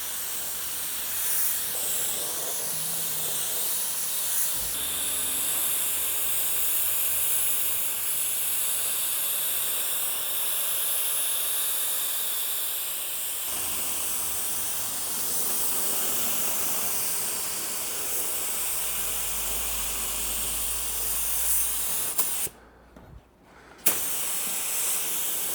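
Steady broadband hiss of a spray gun laying a slow, even paint coat onto a car panel, continuous and close for most of the stretch before a brief cutoff near the end; no talking.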